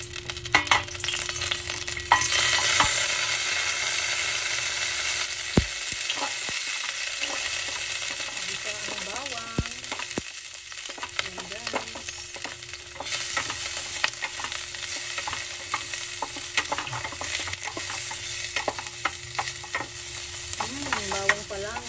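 Oil and butter sizzle steadily in a pan during simple mussel soup cooking, a dense continuous crackle with occasional stirring scrapes and clinks, close and fairly loud throughout, with no talking.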